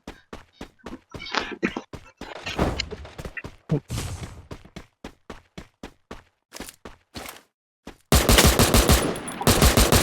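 Video game gunfire with enemies shooting: rapid, sharp shots crack in uneven bursts across the whole stretch, with a denser, louder sustained volley near the end, heard alone without talk.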